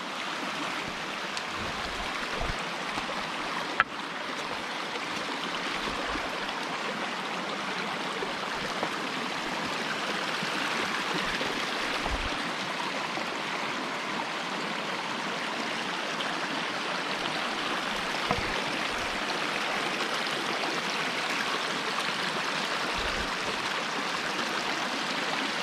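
The Husky Branch stream near the Little River rushes and babbles steadily, a loud continuous flow of water with a few faint low knocks from footsteps on rocks as someone crosses on foot.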